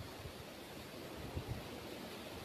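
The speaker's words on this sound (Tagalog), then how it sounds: "Yan na naman yung hangin malakas." Strong wind during a dark rainstorm rushes in a steady, loud roar with brief gusty swells and buffeting, continuous throughout with no speech.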